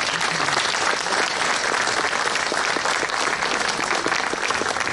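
Audience at a Jadotville memorial ceremony applauding steadily, a dense wash of clapping from many hands that holds at full strength for the whole stretch with no talk over it.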